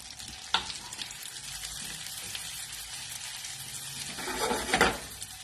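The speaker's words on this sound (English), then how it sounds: "I toast a little bit of the almond over here." Almonds toasting in a pan give a steady, close sizzle and crackle, with a sharp clatter near the start and a louder burst of stirring and scraping toward the end.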